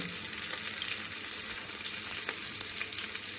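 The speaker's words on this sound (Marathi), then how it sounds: "मी थोडं लसण टाकून घेतोय" Garlic and green chilies frying in oil for khichdi, a steady close crackling sizzle with faint stirring and one sharp pop near the end, no voices.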